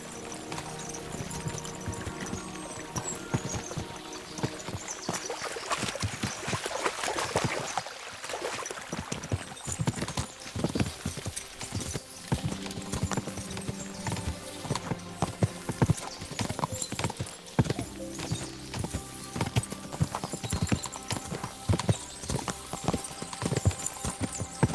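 Horses galloping in Kingdom Come: Deliverance II, with rapid rhythmic hoofbeats clopping continuously throughout, up close and prominent, over a low ambient hum and occasional game sounds.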